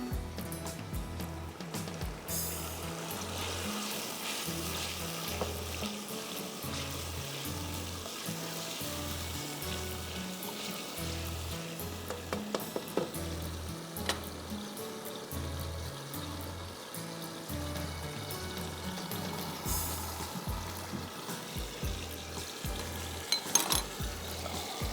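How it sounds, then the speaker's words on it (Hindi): Mutton frying with tomatoes in a pot, a steady, dense sizzle and crackle running throughout, close and continuous, with occasional stirring scrapes and a low rumbling hum beneath. "मैं इस गोश्त को टमाटर के साथ अच्छी तरह से भून रही हूँ"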